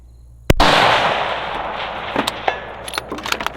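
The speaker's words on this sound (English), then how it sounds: "I just want to hear that bing come back." A rifle shot cracks sharply near the start, followed by a long ringing decay outdoors, with a few faint clicks and small knocks afterward; no one speaks.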